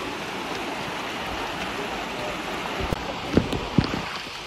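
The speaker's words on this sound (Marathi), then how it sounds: "आता पाऊस पण चालू झाला आहे." Steady rain hisses over running water at a waterfall trek stream crossing near Mumbai, a constant wash with a few sharper splashes near the end and no talking.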